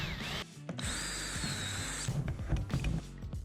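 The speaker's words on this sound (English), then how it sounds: "I can drill the holes to fit exactly" A power drill bores holes for a pond filter flange, giving a steady high-pitched whine for about a second that then breaks into shorter bursts as it cuts, heard close and loud.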